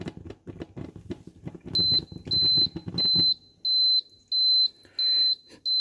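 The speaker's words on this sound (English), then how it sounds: "So the unit just stopped, the light went off, so it just turned off and started beeping" Elite Gourmet egg cooker finishing its cycle, a loud, evenly spaced run of high electronic beeps that starts after a stretch of bubbling, clattering noise and repeats about every two-thirds of a second until the end.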